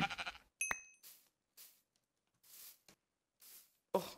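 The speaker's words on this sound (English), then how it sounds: "Oh, more sheep." Short bleats from Minecraft sheep come in repeated separate bursts between silences, fairly clear and near, with a couple of sharper game sounds early on and no speech.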